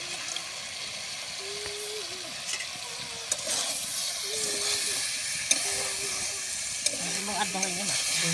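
Washed lentils hit a hot pan of cooking papaya, setting off a steady, close sizzle and hiss with occasional stirring scrapes, while a voice talks intermittently over the frying.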